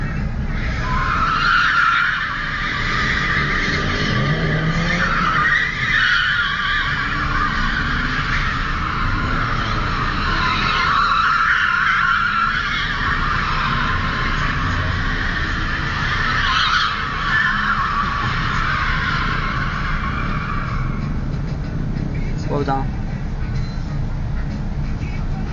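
A BMW drifting at Lakeside squeals its tyres in a long, continuous high-pitched skid, with engine roar underneath and the screech wavering in pitch as the car slides.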